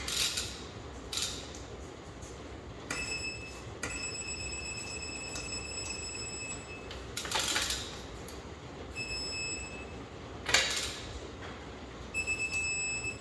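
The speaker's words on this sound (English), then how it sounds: "This one gives us some beeps and a little bit of vibration in the handle." A torque wrench tightening wheel nuts gives faint high beeps in several separate stretches, some long and some brief, heard over a low background hum and a few sharp clicks.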